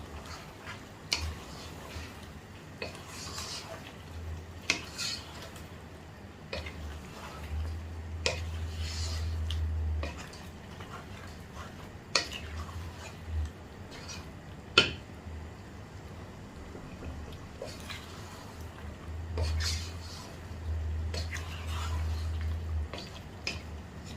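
Soft stirring of a Kerala-style chicken and potato curry in a pan, with faint scraping and light wet knocks recurring irregularly, low-level and close, without speech.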